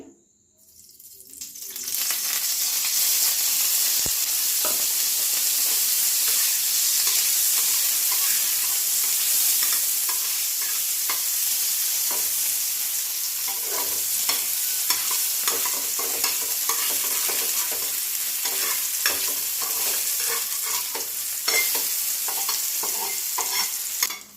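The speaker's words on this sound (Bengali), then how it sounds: "সসেসগুলো একটু ভেজে নিচ্ছি প্রথমে" Chicken sausages fry in a pan with a loud, steady sizzle running almost the whole time, and occasional stirring clicks cut through it. No one speaks.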